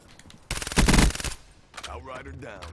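Pistol fire in the Black Ops III multiplayer shooter, a loud rapid burst of shots in under a second, followed by fainter game sounds and a voice.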